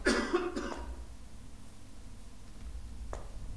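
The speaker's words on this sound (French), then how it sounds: "Qui a toussé?" A single harsh cough bursts out close at the start and fades into low background noise, followed later by a faint click.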